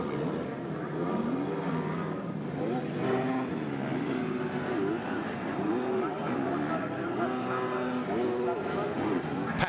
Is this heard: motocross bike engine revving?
yes